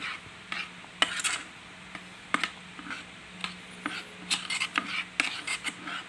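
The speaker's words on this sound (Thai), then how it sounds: "คนไปเรื่อยๆครับ คนไปให้มันแบบเกาะตัวกันนะครับ" A utensil stirs food in a pot over low heat, scraping and clinking against the pot in irregular strokes over a faint sizzle, close by and moderately quiet.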